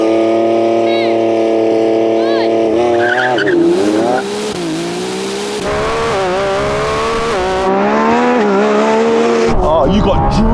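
Lamborghini Revuelto launching hard in a drag race without launch control, its engine revving and climbing through rising pitch sweeps with tire squeal, loud and close throughout with some talk mixed in.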